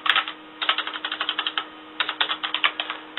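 Rapid keystrokes on a computer keyboard in quick rhythmic runs separated by brief pauses, close and clear over a faint electrical hum.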